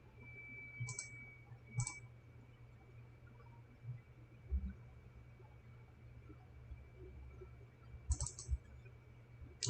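Sparse computer mouse clicks during Photoshop editing, a handful of short, quiet taps spread irregularly over a low steady hum, with a couple landing in quick pairs.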